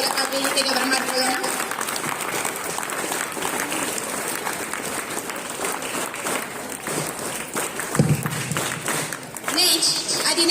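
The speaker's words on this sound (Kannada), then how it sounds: "ಕುಸುಮಾ ಮ್ಯಾಮ್ ಅವರನ್ನ ಜೋರಾದ ಚಪ್ಪಾಳೆಯ ಮೂಲಕ ವೇದಿಕೆಗೆ ಬರಮಾಡ್ಕೊಳ್ಳೋಣ." Loud, sustained applause from a crowd welcoming a teacher onto the stage at a school celebration, continuous dense clapping over about ten seconds with a brief swell near the end.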